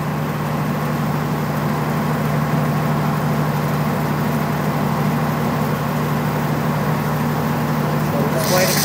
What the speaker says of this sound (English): So the generator is now shutting down because there is no load